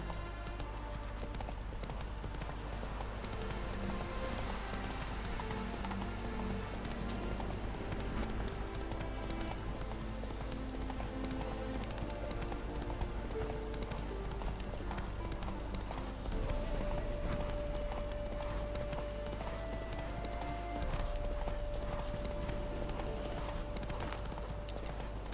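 A horse's hooves clip-clop at a steady galloping rhythm in the video game Witcher 3, with occasional snorts over a soft musical score, moderately loud and continuous.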